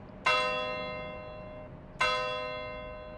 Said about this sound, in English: Has the bell always sounded like that?